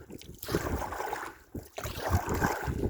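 Wind gusting across open water on a paddling trip, a steady broadband roar with swells and brief dips, close to the microphone and buffeting it, with no talk over it.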